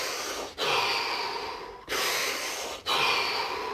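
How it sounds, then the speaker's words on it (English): Three deep, slow breaths drawn in and let out, each long whooshing breath separated by a brief pause, close and alone with no talk. "3 deep breaths. Here we go."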